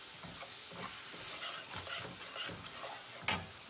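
Butter heats in a pan on the stove for suji halwa, giving a steady close-up sizzle with repeated soft scraping strokes of stirring and a sharper clink near the end.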